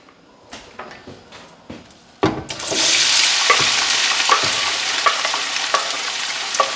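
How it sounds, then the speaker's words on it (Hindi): Onions dropped into hot sesame oil in a pan, a sudden loud sizzle that settles into steady frying, preceded by a few light clinks and stirring knocks. "जैसे आपने इसमें अपने अनियन डाले हैं ना"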